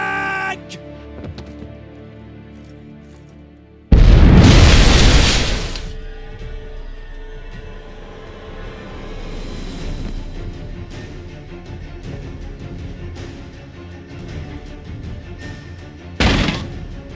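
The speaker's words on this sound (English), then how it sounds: "explosion triggered that fight" A heavy explosion in Witcher 3: Hearts of Stone, set off during an auction house vault heist, erupts as a loud, broad blast, followed later by a shorter second burst over ongoing game ambience.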